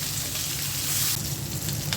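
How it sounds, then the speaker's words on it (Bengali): A large tilapia fish fries in hot oil, giving a dense, loud, continuous sizzle and crackle close by, with no voices. "মাছ ভাজা হয়ে গেছে, এখন উঠিয়ে নিচ্ছি।"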